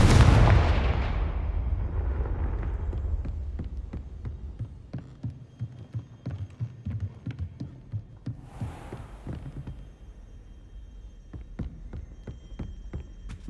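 Hogwarts Legacy Confringo fire spell explosion in the game, opening with a deep loud boom that fades into a long run of rhythmic thuds and crackles, with no speech.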